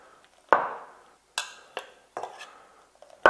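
Butter being whisked spoonful by spoonful into a hollandaise sauce for asparagus, heard as a handful of sharp metallic clinks and scrapes of a whisk or spoon against a bowl, close and irregular, with quiet gaps between strikes.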